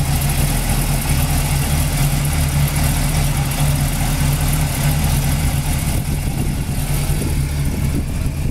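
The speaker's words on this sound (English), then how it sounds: "It's powered by a rebuilt 400 Pontiac big block engine." A 1940 Pontiac five-window coupe street rod with a rebuilt 400 Pontiac big block engine idles steadily and close by, a low, even rumble with a slight lift in revs near the end and no talking.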